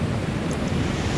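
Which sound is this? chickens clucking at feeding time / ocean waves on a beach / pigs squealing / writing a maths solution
ocean waves on a beach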